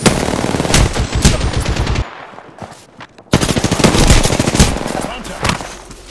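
Rapid automatic gunfire in Apex Legends rattles off in loud, close bursts, then stops briefly before another long stretch of sustained shooting resumes.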